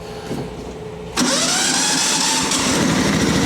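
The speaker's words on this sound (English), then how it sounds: "But if this fires up and works easily, then this tractor will go out on loan briefly" A John Deere tractor mower engine, choke on, cranks and catches about a second in, then settles into a loud, steady close-up running note that holds to the end.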